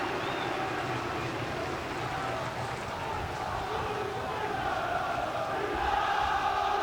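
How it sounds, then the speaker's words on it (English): Football crowd at Everton versus Spurs roaring steadily for a corner kick, a broad continuous stadium din that swells slightly near the end, heard at a distance. "and they're cheering that"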